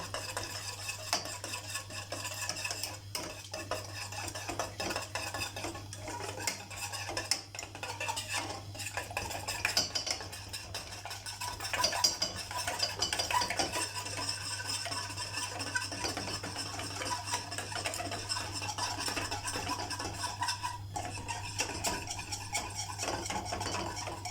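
Custard (muhallebi) for tiramisu stirred in a pot over low heat, a spoon or whisk scraping and knocking against the metal in a continuous uneven rhythm, close and moderately quiet, with no talk.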